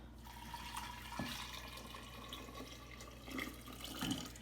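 Brewed tea poured for homemade kombucha trickles steadily into a container in a kitchen, a soft, faint liquid stream with a few small splashes and a low hum behind.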